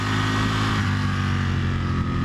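A sport motorcycle accelerates with the throttle rolled on, giving a loud, steady engine roar with a sustained low drone and no pauses.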